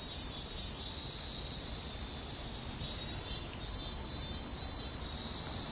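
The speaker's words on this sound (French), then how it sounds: "j'aime bien entendre les bruits de la nature ici, les oiseaux, les cigales," Cicadas drone in the summer countryside of Japan, a loud, continuous high-pitched buzz that pulses slightly throughout, with nothing else standing out beneath it.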